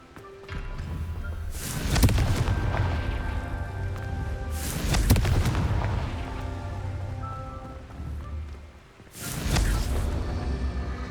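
Confringo fire spells blasting in Hogwarts Legacy, three loud booming bursts a few seconds apart, each with a rushing whoosh that decays into a low rumble.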